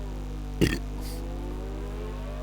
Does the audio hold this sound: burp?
yes